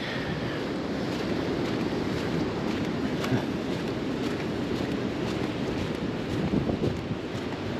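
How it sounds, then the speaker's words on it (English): Breezy wind at the Outer Banks during hurricane season, with a chill in the air, buffets the microphone as a steady, loud rushing roar with no voices. "It is nice and breezy out here"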